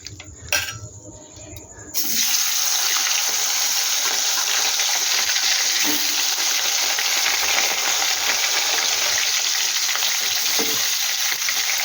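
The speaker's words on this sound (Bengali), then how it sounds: "আমার তেলটাও গরম হয়ে গেছে। আমি এবার এক এক করে ভেজে নেব।" Pieces of bhetki fish go into hot oil after a couple of seconds of quiet kitchen clatter, and a loud, dense, continuous frying sizzle then fills the rest, with occasional light utensil clicks.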